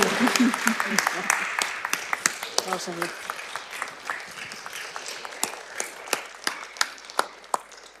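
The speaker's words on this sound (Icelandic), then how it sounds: "nú verðum við að fá að klappa" Applause from a congregation at a Women's Day church service: a dense, steady patter of many hands clapping for several seconds, with a voice speaking briefly near the start and the clapping thinning toward the end.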